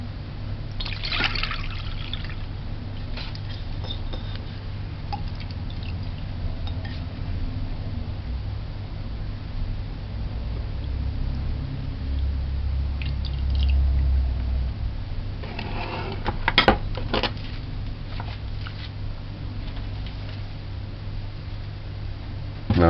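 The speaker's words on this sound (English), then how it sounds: "So just remove the water." Water steadily trickling and dribbling as it is drained off during spice bun preparation in a kitchen, a continuous close liquid sound with a few brief clatters partway through and no talk.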